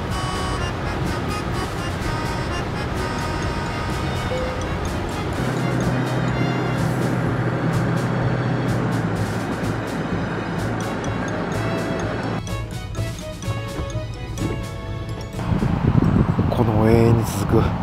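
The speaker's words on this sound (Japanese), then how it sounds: "急な上りが続いてますんで、やっぱりエンジン音が結構うるさいですね" A Toyota TownAce camper van's engine drones hard as it labors up a long, steep highway climb, with continuous road and wind noise inside the cabin and someone talking over it.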